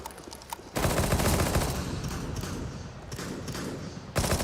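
Counter-Strike gunfire during a Major grand final match, a dense sustained burst of rapid shots filling most of the stretch, loud and close, with brief pauses near the start and end.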